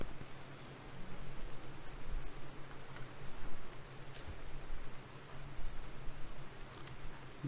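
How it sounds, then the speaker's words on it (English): Rain falling in the video game Rimworld, a soft, steady patter of drops over a hissing wash, faint and continuous, with slight swells in intensity and a low hum underneath. "Some rain helps."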